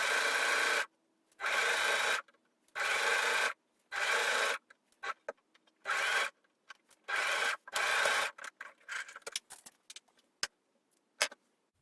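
A sewing machine stitches a T-shirt seam in several bursts of rapid, even whirring, each lasting about a second, separated by short pauses and followed by scattered shorter runs.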